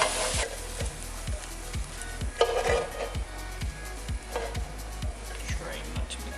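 Egg whites sizzle and fry in a pan, a steady broadband hiss with a low rhythmic thumping underneath and occasional scraping bursts of a utensil moving them around.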